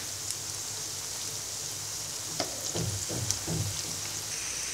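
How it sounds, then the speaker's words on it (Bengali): Fish roe pakoras fry in hot oil with a steady, fine sizzle throughout, broken midway by a few louder bubbling bursts and crackles as the pieces are moved or turned; no talking. "এবার ব্রাউন কালার করে মাছের ডিমের পাকোড়াগুলো ভেজে নিব"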